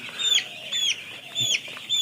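Broiler chickens on a poultry farm give repeated short clucks and calls in bursts, near and moderately loud, with a soft background of movement between the calls.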